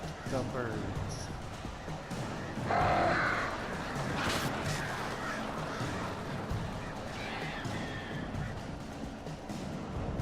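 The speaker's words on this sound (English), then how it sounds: "These birds are weird." Crows caw in the video game Alan Wake, rough calls scattered through the scene among game noise and bursts of action, with a player talking over them.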